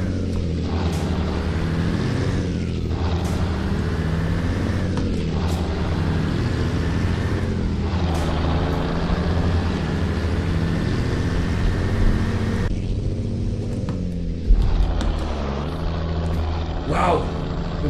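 A Mercedes-Benz Atron 1635 truck pulling a Krone container trailer drones with a steady low engine rumble throughout, with a few brief clicks and a short knock near the end, and no talk over it.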